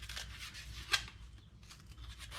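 Scissors make a single short, sharp snip while cutting into material in a small home workshop, quiet and isolated against a soft background hiss.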